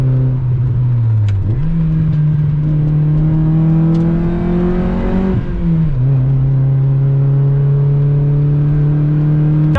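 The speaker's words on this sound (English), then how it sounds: "You can slightly hear the induction kit." A Mazda MX-5 MK2 with an induction kit pulls hard through the gears at night, its engine note climbing, dropping at a gear change and rising again, loud and close from inside the car.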